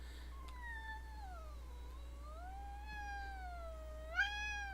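A house cat gives one long, clear meow that bends down and rises again, then ends in a short, sharper cry. It is close and fairly loud over a steady low hum, with no talking.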